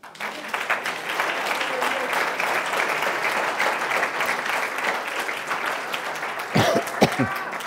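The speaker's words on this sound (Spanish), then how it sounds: "Dar un aplauso a Cristo." Church congregation applauding during a sermon, steady dense clapping filling the room for several seconds, ending with a few louder sharp claps and voices near the close.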